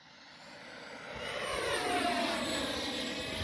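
A Freewing A-4 Skyhawk radio-controlled jet with an 80mm ducted fan passes at about three-quarter throttle into the wind, its whine swelling from faint to moderately loud and holding steady at a distance.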